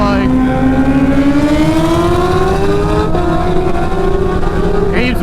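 Kawasaki Ninja H2 motorcycles race side by side, a loud high-revving engine whine climbing steadily in pitch as one bike pulls around the other, close and continuous with wind and road noise beneath.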